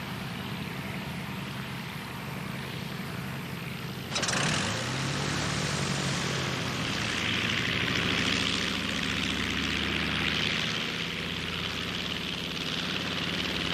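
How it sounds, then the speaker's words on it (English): A SAAB S-17 single-engine propeller aircraft on its first test flight in 1940 gives a loud, steady engine drone with a rising surge partway through, sustained and unbroken. "the S-17 was wheeled out for its first test flight"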